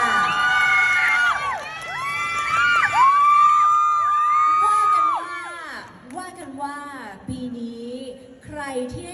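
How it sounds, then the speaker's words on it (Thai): A crowd at a Chinese New Year celebration in the Central World shopping mall cheers and shouts loudly, with high-pitched whoops and sustained screams layered over one another, fading into scattered calls near the end. "ขอเสียงปรบมือหน่อยค่ะ"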